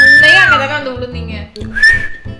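A loud whistle sounds in a video game with gliding pitch: a long falling note, then a shorter rising one after a brief pause. It is close and clear, with no talking over it.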